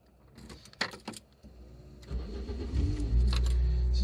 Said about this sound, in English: that's the lovely Cléon-Fonte engine